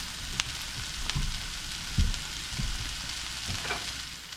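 Broccoli, carrot, cauliflower and yellow squash fry together in a pot, giving a soft continuous sizzle with occasional scrapes and low knocks as the vegetables are stirred. No one speaks.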